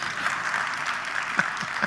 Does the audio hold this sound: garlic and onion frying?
no